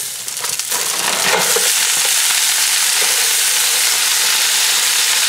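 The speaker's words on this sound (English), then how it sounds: "I'm just gonna start putting our veggies in to stir fry. First our onions." Onions drop into a hot oiled pan for a vegetable stir fry and burst into a loud, steady hiss of frying that holds evenly after a brief clatter at the start.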